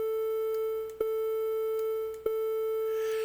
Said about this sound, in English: Then there's a triangle wave, and the triangle wave is a little bit different. It's kind of mellow.